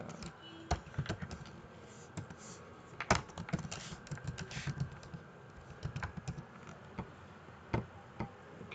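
A password typed on a computer keyboard: irregular bursts of crisp, close key clicks with brief pauses, over a low room hum.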